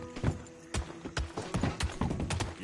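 A horse gallops in Red Dead Redemption 2, its hooves striking in a quick, rhythmic clip-clop that sounds close and continuous over a short run.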